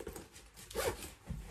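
A zipper being drawn up the front of a faux leather jacket, a single quick rasping pull heard close and fairly faint, with light rustling of the garment around it and no talk.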